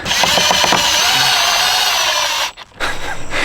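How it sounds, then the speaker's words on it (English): A power drill drives a wood screw while a splitter is installed, a close, loud, continuous whirring with a few ratcheting clicks at the start, briefly stopping before spinning again. "And then I'm gonna put the last wood screw in."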